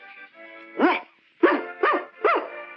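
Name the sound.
person imitating a dog barking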